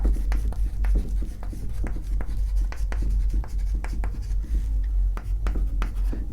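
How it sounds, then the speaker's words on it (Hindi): Writing on a board during a chemistry class: a steady run of sharp, scratchy strokes and taps over a constant low room hum, close and fairly loud. "इधर लिखता हूं"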